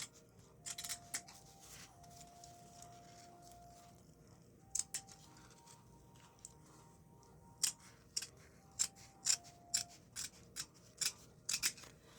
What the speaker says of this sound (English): I do need sharp scissors